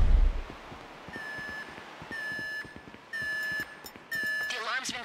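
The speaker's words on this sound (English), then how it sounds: "The alarm's been tripped" A security alarm sounds in Grand Theft Auto 5, loud repeated electronic beeps pulsing about once a second, with a voice talking over them.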